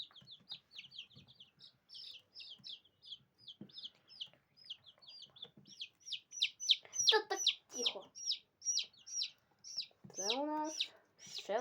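Young chicks cheep in a fast, repeated high-pitched run, then louder clucks and squawks break in near the end, with quiet talk faintly underneath.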